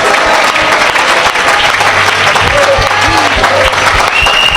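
A church congregation applauds and cheers loudly at a worship gathering, dense continuous clapping with shouts and whoops mixed in and a low rhythmic thump underneath.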